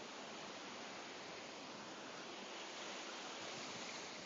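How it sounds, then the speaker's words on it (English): Steady broadband rushing of surf, a continuous wash of breaking waves with no distinct crashes, fairly faint and even throughout. "looking at the waves."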